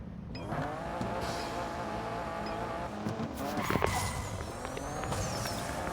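Car racing in the video game Need for Speed No Limits: a steady engine roar with tire squeal and skidding, building slightly toward the end, without speech.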